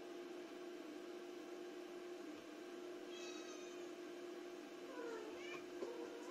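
A cat meows a few times near the end, faint and close, over a steady electronic hum from a Xerox WorkCentre 6015 printer under repair in a room.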